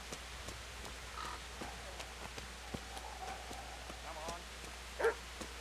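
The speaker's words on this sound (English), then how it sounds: "Listen for the dog, head to this alley." A dog barks a few times in a village alley in the video game Kingdom Come: Deliverance, faint and distant beneath a steady ambient hum and scattered clicks.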